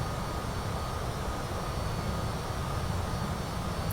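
A WT CJ4 business jet in Microsoft Flight Simulator 2020 drones on steadily with its jet engines, a constant, even cabin roar that never changes in level, with no voices over it.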